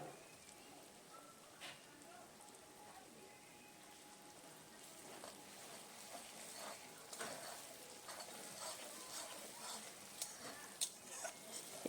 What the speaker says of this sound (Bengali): এবার খুব ভালো করে কষিয়ে নিতে হবে।